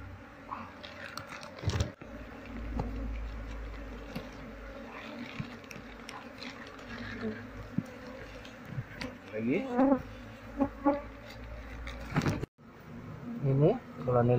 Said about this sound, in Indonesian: Ini koloni lebah yang berada di dalam ban mobilnya.